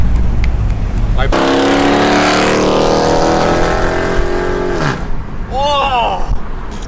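Chevy SS sedan roars as it accelerates hard nearby, engine pitch climbing steadily before a gear shift drops the revs and the car pulls away, with excited voices heard over the engine noise.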